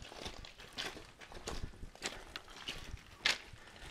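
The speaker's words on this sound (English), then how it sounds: "There's some sheep that have the bells on them." Bells worn by sheep in the mountains, heard as irregular, faint clinks and jingles among shuffling hooves. One brighter ring stands out near the end over a soft outdoor background.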